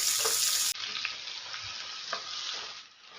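Sliced onions and a bay leaf sizzle steadily in hot oil in a pan as koi fish cooks alongside for a fish curry, with occasional soft stirring clicks and no talking.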